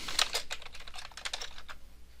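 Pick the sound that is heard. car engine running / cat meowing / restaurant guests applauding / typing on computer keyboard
typing on computer keyboard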